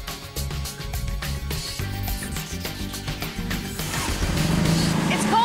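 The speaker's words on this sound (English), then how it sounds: "A normal car, but it sounds very different because the engine, believe it or not, is from a snowmobile." A car fitted with a snowmobile engine buzzes steadily close by, small and high-revving, harsh and raspy like a two-stroke, growing louder toward the end with a few clanks.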